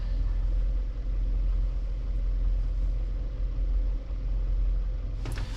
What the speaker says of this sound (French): le véhicule continue de tourner au ralenti